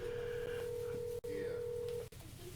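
A steady telephone tone hums on, broken by two brief clicks, with faint background murmur underneath.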